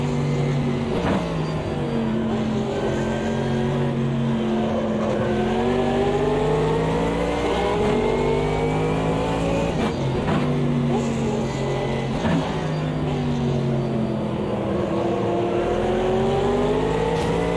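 Mercedes AMG GT3 race car engine in the sim racing game Automobilista 2 at Mount Panorama, revving continuously with rising and falling pitch through repeated gear shifts, loud and steady throughout.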